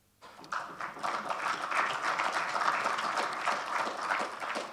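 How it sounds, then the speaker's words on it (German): A conference audience bursts into brief, lively applause, a dense patter of many hands clapping in a hall that lasts a few seconds. "Kurzer Applaus, das muss sein"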